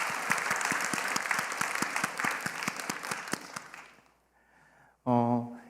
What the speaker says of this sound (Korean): 우리 그분들을 위해서 한 번 더 격려와 사랑의 박수를 보내도록 하겠습니다